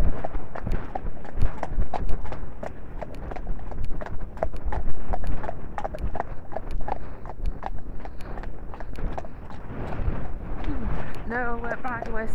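Hooves of Apollo the horse trotting on a cold, bright winter day, a steady brisk clip-clop close by, with a voice speaking briefly near the end.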